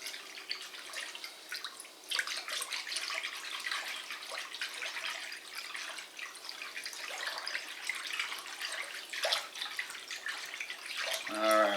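Hot tap water, not boiling, runs steadily from a faucet while bread dough is being prepared, a continuous splashing rush with a few brief louder spurts and no talking.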